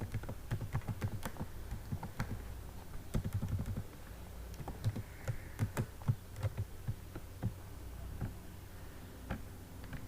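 Quick, irregular clicking of keys on a computer keyboard during a CSS coding session, fairly quiet and close, with short pauses between bursts and no voice over it.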